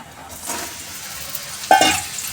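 Cumin seeds tempering in hot ghee, a soft steady sizzle that rises, then a sudden louder metallic clatter of a utensil against the pan near the end, close and without speech.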